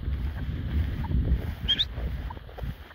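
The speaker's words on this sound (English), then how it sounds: "Nice wind, good wind." Wind buffets a microphone outdoors in a low, continuous roar with gusty swells across the few seconds. No voices can be heard.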